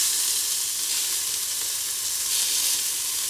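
Lemon slices caramelizing in the bottom of a saucepan give a steady, close hissing sizzle that holds evenly the whole time, with no talking.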